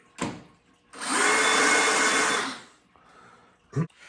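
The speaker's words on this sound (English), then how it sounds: "using this unibit, just get the hole started" A unibit step drill bores into a plastic drain hole in a fish room tank, a loud steady whine lasting about a second and a half, framed by brief clicks and handling knocks before and after.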